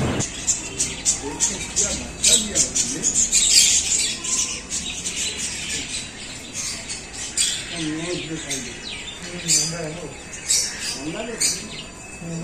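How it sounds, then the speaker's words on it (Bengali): Many birds in a large cage in the garden of the Glass Temple near Dakshineswar squawk and chirp in repeated overlapping bursts, loud and lively, while people talk nearby. "বাগানটার পিছনে রয়েছে একটি বড় খাঁচা আর সেখানে রয়েছে অনেকগুলো পাখি"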